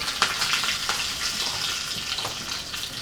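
Cinnamon, cloves, mustard seeds, cumin, curry leaves and asafoetida crackle and sizzle steadily in hot oil for a Gujarati dal tempering, a continuous close hissing with small pops throughout.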